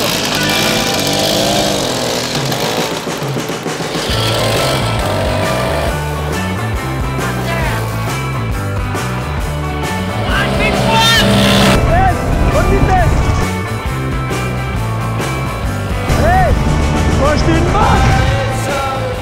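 Buzzy small two-stroke moped engine labouring uphill on the climb to the Col des Aravis, droning steadily with rising and falling revs, loud and close, with a voice talking over it.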